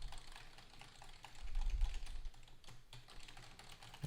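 Steady rapid typing on a computer keyboard, picked up through a JPL Element TT3 Avant headset microphone, quick clustered clicks continuing throughout at moderate level, with a brief low thump near the middle.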